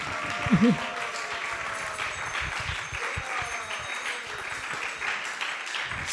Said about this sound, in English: So let's have a big hand of applause.